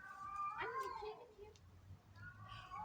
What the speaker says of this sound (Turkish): siyah beyaz bir kedi var o herhalde